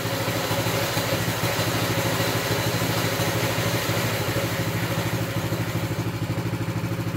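A Baja Warrior 200cc mini bike engine runs steadily just after starting with the choke on, giving a loud, close, even putter with a clattery mechanical edge throughout.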